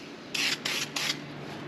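Three short hissing bursts of spray paint from a rattle can, coating freshly welded spring seat metal on a 2021 Ford F-350, each blast about a quarter second long and close, with quiet room noise between them.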